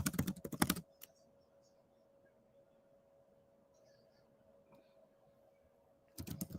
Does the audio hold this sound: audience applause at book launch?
no